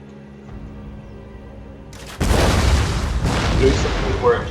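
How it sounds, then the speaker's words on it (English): Bombard cannon in a medieval castle-siege video game firing at a castle wall, a loud booming blast hitting halfway through and rumbling on with debris-like crackle after a quieter stretch of background music. "The bombard firing away at the wall here."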